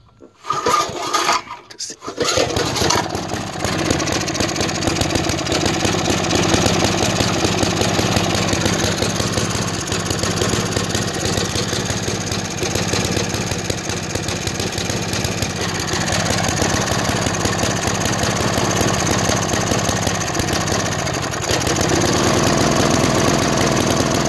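An old junker walk-behind lawn mower engine runs rough and loud, a steady uneven sputtering drone with knocking that holds for over twenty seconds after a brief start, alone without talk.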